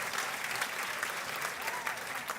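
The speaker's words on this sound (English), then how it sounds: "There's a lot of applause that needs to go on there for that." Studio applause, steady and faint, a dense patter of many hands clapping at a distance with no break for the whole stretch.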